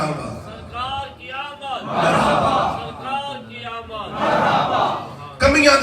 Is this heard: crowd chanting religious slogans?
yes